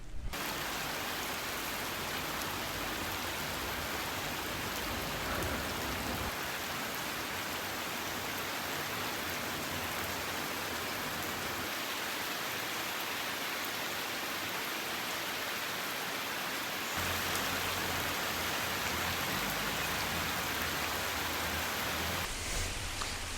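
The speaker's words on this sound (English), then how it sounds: "it started raining and there is also a thunderstorm in the distance" Steady rain pours down outdoors, a dense, even hiss that holds for over twenty seconds with slight shifts in intensity; no distinct thunder claps stand out, and no one speaks.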